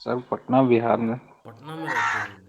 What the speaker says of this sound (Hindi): सुबह सुबह मतलब इतना पीछे से पक्षियों की आवाज़ आ रही है ना